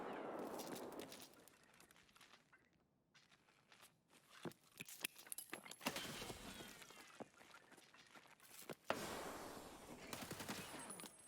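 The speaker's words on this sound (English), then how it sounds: "with the first grenade you guys saw pop off" In Escape From Tarkov, a grenade pops off with a sharp burst, and rapid gunfire cracks and clattering bangs follow through the rest of the fight, fairly quiet overall.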